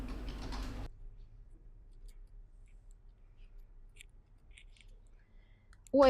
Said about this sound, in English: Next, I need to cut the collar on the basis of this pattern.